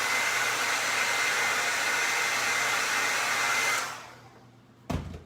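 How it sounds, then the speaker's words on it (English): A blow dryer roars steadily at close range while drying paint on a glass and resin craft piece, then winds down and cuts off, followed by a brief clunk. "I'm going to hit it with a blow dryer"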